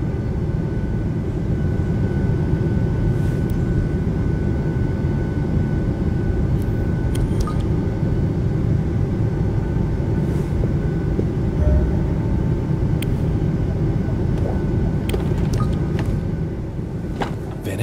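Steady, loud airplane cabin engine hum in the video game D4, a continuous low droning roar with faint higher tones running unbroken throughout, no voices present.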